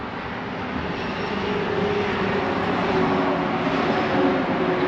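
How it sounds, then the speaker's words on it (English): Steady, loud traffic roar from a highway behind an RV lot, a continuous broadband rumble and hiss that swells slightly near the end, with no speech over it. "You might hear the highway behind me here"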